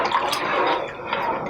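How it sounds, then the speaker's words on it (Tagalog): Water poured into a cooking pot while making Batanes-style valenciana rice makes a brief, steady splashing gush, close and fairly loud, lasting just over a second. "maglalagay po tayo ng 1 liter ng tubig"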